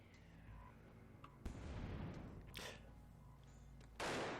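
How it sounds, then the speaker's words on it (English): Explosions in the winter survival game ICY: Frostbite Edition, a few dull booming blasts with broad rumbling tails, one sharper burst near the end, over a low ambient game bed. "Those explosions by themselves generally don't hit too hard"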